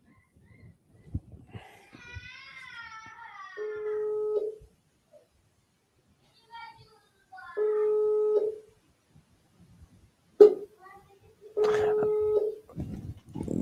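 Telephone dialing tones sound during a call-in broadcast as callers are rung back: a few separate steady beeps at an even pitch with quiet gaps between them, plus a short faint warbling tone early on.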